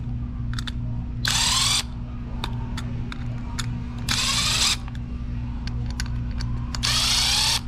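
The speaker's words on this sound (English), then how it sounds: "next step, unscrew these 3 screws" A cordless power drill backs out screws on a Stern Jurassic Park pinball machine during an animated T-Rex mod install, three loud whirring bursts spaced a few seconds apart, with small clicks and taps between them over a steady low hum.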